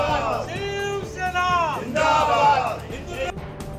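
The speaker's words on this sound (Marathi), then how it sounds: "उल्हासनगरात श्रीकांत शिंदेंच्या कार्यालयात शिवसैनिकांचा जल्लोष" Shiv Sena workers cheer and celebrate at Shrikant Shinde's office in Ulhasnagar, with loud, drawn-out shouts, whoops and chanting voices over a noisy crowd.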